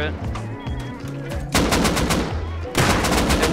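An auto turret firing in the survival game Rust, rapid automatic bursts of shots that come in two strong waves over a low droning background, close and loud.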